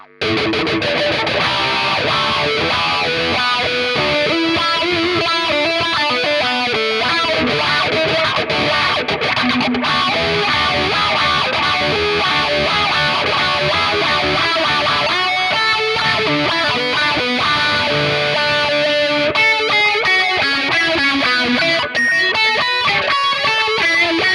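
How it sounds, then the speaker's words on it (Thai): Electric guitar played through a Valeton GP-5 effects unit on a distorted patch, a continuous, loud, saturated tone with chords and riffs running throughout. "อ่าจะเปลี่ยนเป็นเสียงแตก"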